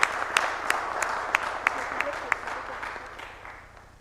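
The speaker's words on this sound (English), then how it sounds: "If I can just ask us all to give an applause, particularly for our 4 entrepreneurs and our 2 CEOs as well." Conference audience applauding four entrepreneurs and two CEOs after a leadership chat, a few sharp claps standing out over a soft wash of clapping that slowly fades toward the end.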